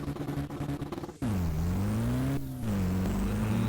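A pickup truck converted into a racer and carrying a heavy load accelerates hard in a Roblox driving game, its engine note climbing in loud, continuous revs after a brief rough idle.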